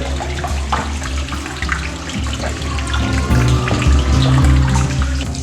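Water pours continuously down the steps of Olentangy Caverns, a close, steady rushing flow like a running tap that swells slightly louder toward the end.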